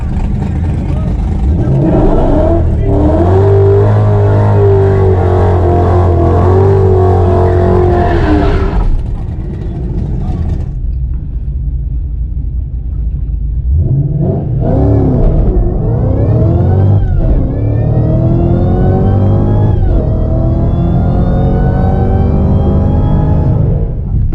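A Ford Mustang GT500 runs down a drag strip. The loud engine roars continuously and the pitch climbs through repeated rising sweeps as it works through the gears, with a brief dip between pulls.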